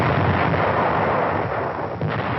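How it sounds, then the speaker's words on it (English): Guns of a great naval fleet opening up in a Pacific bombardment in 1945, a loud, continuous rumbling roar of massed fire with no distinct single shots, heard alone. "Strategic airfields are the objectives as the great fleet's guns open up"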